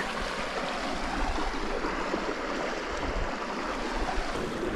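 River water pours over a weir at Loch Lee, a continuous rushing roar of flowing water, steady and fairly close.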